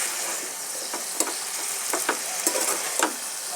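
Flat beans and onion stalks stir-frying in a pan with turmeric and salt, a constant bright sizzle with repeated clinks and scrapes from a spatula turning the vegetables.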